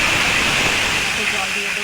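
Water poured into a pan of frying radish sets off a loud, steady hiss of steam and sizzle, close by and unbroken for the whole moment.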